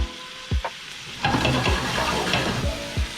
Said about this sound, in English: So our chicken is getting a nice sear on it.